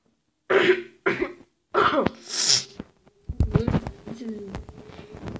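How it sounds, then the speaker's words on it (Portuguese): Several harsh coughs and throat-clearing bursts come in a cluster, close to the microphone, followed by clattering and shuffling sounds. "Agora eu tô com a crise aqui de tosse."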